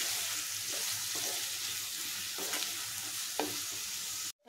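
Onions with a pinch of salt fry in a pan, giving a dense, even sizzle that runs nearly throughout, with occasional soft spoon scrapes before it cuts off abruptly at the end.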